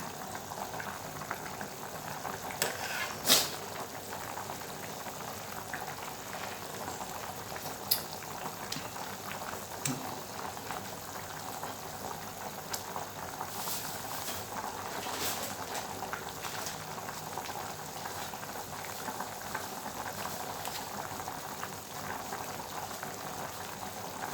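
Chicken and young pumpkin curry bubbles steadily in a pot, a continuous close simmering hiss with scattered pops and gurgles throughout, and no voices over it.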